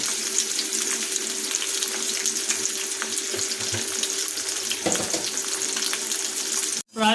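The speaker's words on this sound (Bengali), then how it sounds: "কেটে রাখা বড় টুকরোগুলো তেলের মধ্যে দিচ্ছি একটু ভালোভাবে নেড়ে নেবো" Large cut vegetable pieces, beans among them, fry in hot oil in a pan, giving a continuous, close, even sizzle that ends with a brief clatter.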